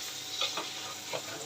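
Stuffed okra fries in oil in a pan, a soft, faint sizzle with a few brief scraping stirs spaced through the moment.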